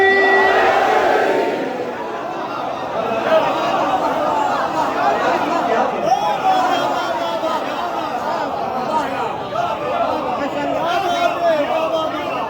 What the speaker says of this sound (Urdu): دونوں ہاتھ اٹھا کے نعرے حیدری